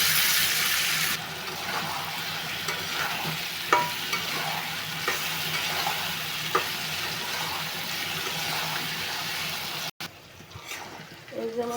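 Papaya and potatoes being sautéed with cumin and coriander spices in a pan, a steady close sizzle with occasional stirring clicks, ending with a brief clatter and running water.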